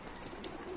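A domestic bango pigeon heading back in over a rooftop, a brief faint coo heard in open outdoor air with no talking.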